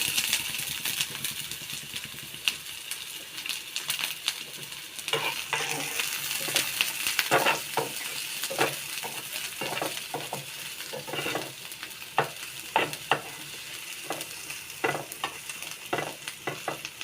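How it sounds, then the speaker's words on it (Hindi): Onions fry in a pan for an egg masala, a steady sizzle broken by repeated stirring scrapes and clicks of a utensil, close and fairly quiet, with no voices. "इसको अभी गोल्डन होने तक पकाना है"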